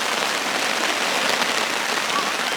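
Steady rain pours down around a canoe outing, a dense, even hiss of drops hitting water and surfaces that holds at constant loudness throughout, with no voices.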